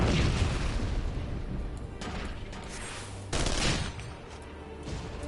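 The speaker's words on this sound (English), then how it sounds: "I have machine guns." Rapid machine-gun fire and booming blasts from a robot in the Final Fantasy 14 video game, a dense continuous fusillade with louder bursts near the middle, heard alone without talk.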